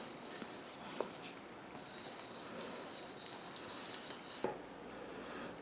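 Steel knife blade polished on a 6000 grit whetstone, a soft continuous close scraping and rubbing in repeated strokes, with a couple of sharper taps from the blade meeting the stone.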